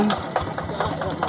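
A Quick Impala tractor engine runs close by with a rapid, regular knocking putter, each beat evenly spaced over a steady mechanical drone.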